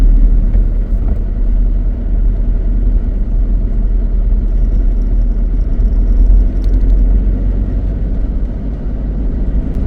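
Car cruising at a moderate speed along a forest road through Corbett during the monsoon, a loud steady engine and road rumble heard from inside the vehicle, with faint rattles and no voices.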